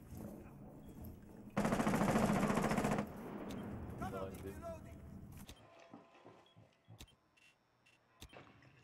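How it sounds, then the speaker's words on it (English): Rapid automatic gunfire from Rainbow Six Siege bursts loudly for about a second and a half, followed by scattered shots and fainter game effects while a player talks. "Where am I getting shot from?"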